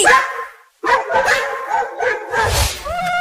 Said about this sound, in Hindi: अरे ये कुत्ते हमारे घर के पास आकर क्यों भौंकने लगे?